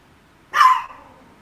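A single short dog bark, loud and close, with a brief tail afterward and quiet around it.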